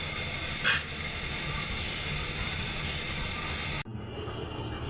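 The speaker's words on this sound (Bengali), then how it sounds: "ভেজে এভাবে সবগুলো করে ভেজে নেব" Lentil and pumpkin leaf fritters fry in hot oil with a steady, dense sizzling hiss that continues without pause and then drops away sharply near the end.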